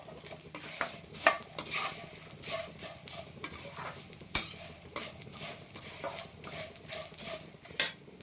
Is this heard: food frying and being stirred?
yes